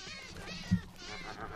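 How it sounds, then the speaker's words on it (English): A single clear meow from a cat in the video game Minecraft, short and moderately loud, set against low game ambience. "Alright, I'm killing all these cats."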